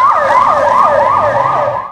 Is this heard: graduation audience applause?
no